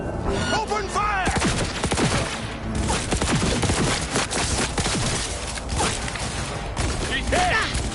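Gunfire in the game Cyberpunk 2077, dense automatic weapon bursts rattling continuously for several seconds, loud and close, mixed with shouted voices and combat effects.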